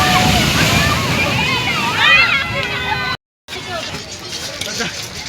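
Rough sea waves surge and slosh loudly at Digha beach, a continuous roar of water with people's voices calling over it and a brief gap partway through.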